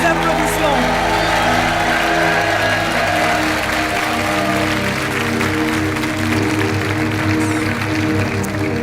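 A TV game show studio audience applauds steadily while music plays loudly underneath, the clapping a constant wash that never breaks.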